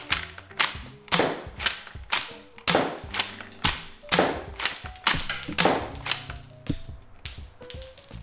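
A Colonel Wasp Firefly Nerf shotgun is pumped and fired again and again at close range, each cycle a sharp plastic clack and snap, in an irregular, rapid rhythm with mechanical clicks between shots.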